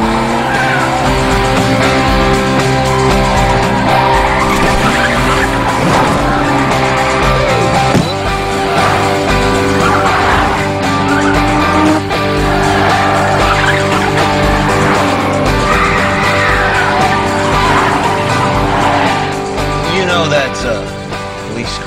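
Race car engines run loudly and steadily together at the start of a race, a dense continuous roar with tire noise, while voices carry over the top.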